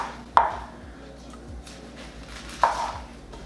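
A knife slicing a red onion in a home kitchen in Costa Rica, heard as two distinct cuts about two seconds apart, fairly close, with quiet background between them and no talking.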